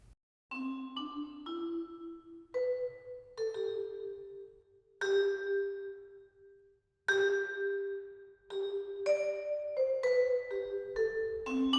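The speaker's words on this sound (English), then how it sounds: "Here's the vibraphone." A virtual vibraphone from the Spitfire Symphony Orchestra plays a slow sequence of struck notes, each ringing with a soft metallic shimmer and long sustain, some held longer with gaps of silence between phrases.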